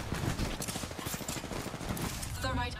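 Rapid automatic gunfire bursts in the battle royale game Apex Legends, a dense rattling fusillade under a player's quick voice chat, with a brief pause near the end.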